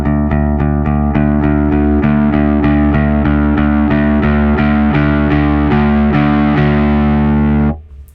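Electric guitar played through a Kaamos pedal with its distortion gain turned up, a loud, thick, sustained chord strummed in a steady rhythm, with a bright attack on each stroke, then cut off abruptly.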